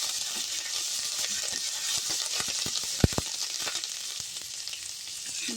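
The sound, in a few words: stirring frying spinach curry tempering in pan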